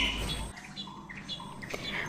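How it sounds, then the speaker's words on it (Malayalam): Several birds chirp and tweet close to a window at home, with short scattered calls repeating over a steady low background hum. "ഇവിടെ കുറേ ദിവസമായിട്ട് ഇങ്ങനെ പക്ഷികൾ വരുന്നുണ്ട് കേട്ടോ. ജനലിൽ ഇങ്ങനെ മുട്ടി അവരുടെ ശബ്ദമൊക്കെ കേൾക്കാൻ നല്ല രസമാണ്."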